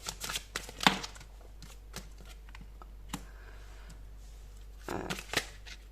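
Tarot cards are shuffled by hand at close range: soft, quick papery riffles and taps in short bursts separated by quiet stretches, with no one talking.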